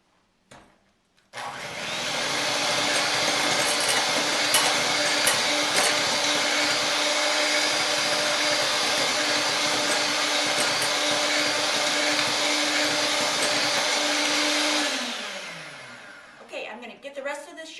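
An electric mixer beats meringue as sugar is added gradually, a loud steady whirring drone that runs unbroken for about thirteen seconds before winding down, followed by faint clatter.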